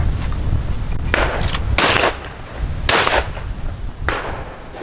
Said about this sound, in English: Out here, clay shooting for my birthday.